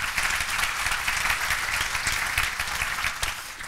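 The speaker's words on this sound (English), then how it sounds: "So give them a round of applause, ladies and gentlemen." An audience claps together in steady, dense applause at a school education event, sustained and fairly loud throughout with no talk over it.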